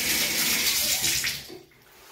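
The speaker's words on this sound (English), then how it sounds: "the first thing I do is put a little water inside of that drain" Water splashes steadily into a bathtub drain before a Zip-it drain-cleaning tool is used on a clogged tub, a close, continuous rushing pour that tapers off near the end.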